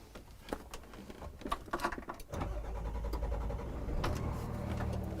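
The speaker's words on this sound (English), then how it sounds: "So I'm just gonna start up the truck." A 2022 Freightliner M2 106 Summit Hauler truck starts up from the cab. Scattered clicks and knocks come first, then the engine catches and settles into a loud, steady diesel rumble that lasts to the end.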